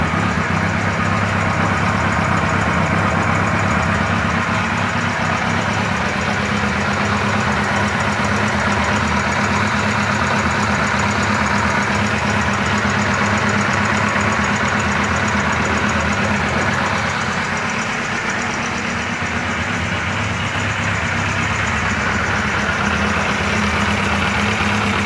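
Police 1000 motorcycle engine idling after being repaired, a loud, steady, close-up mechanical rumble with even firing pulses that dips slightly in level partway through, with no talking.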